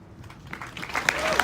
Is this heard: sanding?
no